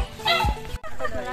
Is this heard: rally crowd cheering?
no